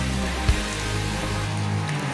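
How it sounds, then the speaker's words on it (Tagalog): Steady, dense rain hisses loudly and continuously over rice paddies, with a brief thump partway through. "on the way na yung ulan"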